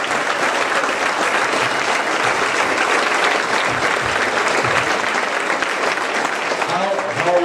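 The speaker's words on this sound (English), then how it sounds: "one more round of applause for Bill Gallagher" A crowd at Bill Gallagher's retirement celebration gives a loud, steady round of applause, dense, close and sustained throughout with no letup.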